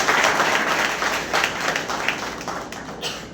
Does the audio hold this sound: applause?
yes